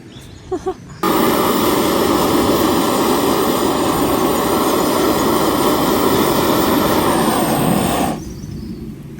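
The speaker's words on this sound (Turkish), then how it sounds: "Uçak geçiyor." A loud, roaring jet airplane passes close overhead a forest campsite, its broadband rumble holding steady for several seconds before cutting away abruptly.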